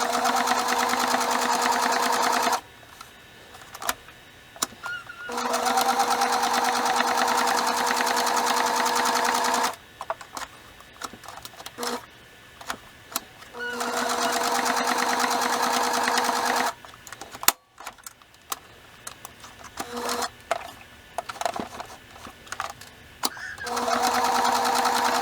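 Sewing machine stitching the corners of a fabric bow tie: loud, steady bursts of rapid needle whirring, stopping and restarting several times with short pauses and faint handling sounds between runs.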